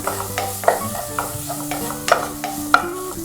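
Green chilies stirred into a Kaayalpattinam-style mutton curry in a pan: a spoon scrapes and clinks against the metal in a few sharp knocks over a low, steady sizzle, close and fairly loud.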